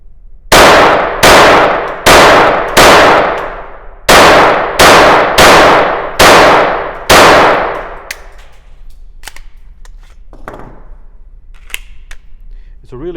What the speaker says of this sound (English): It's a really fun gun to shoot, really fun.